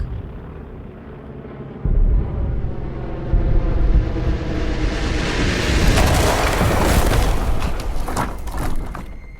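An airstrike is staged as a sound effect: a deep rumbling aircraft drone swells and roars louder, merging with heavy booming explosions that build to a dense, loud crescendo before fading, with no speech.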